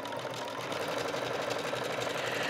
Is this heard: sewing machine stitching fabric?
yes